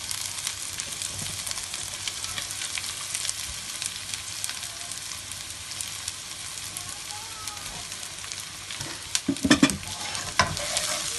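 Sliced onions fry in mustard oil in a pan with a steady broadband sizzle that runs throughout, stirring clatter rising near the end, and a voice speaking faintly in the background.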